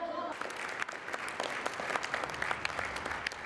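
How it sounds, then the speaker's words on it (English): An audience at an outdoor knights' show in Hungary claps for a knight after a dagger-throwing feat: dense, continuous applause with scattered sharper claps, fairly distant and steady for several seconds. "The audience applauds"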